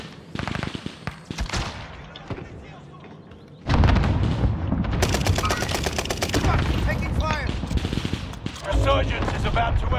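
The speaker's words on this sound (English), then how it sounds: "Throwing a grenade!" Video game battle: a grenade blast followed by heavy bursts of rapid gunfire, loud and close, with scattered shots beforehand and voices calling out over the combat.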